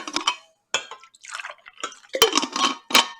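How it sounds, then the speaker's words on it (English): Organic coffee made with filtered water pours into a cup close by: several short splashing, trickling bursts separated by brief pauses, with no talking. "So I made a little coffee for myself. You don't mind if I pour it."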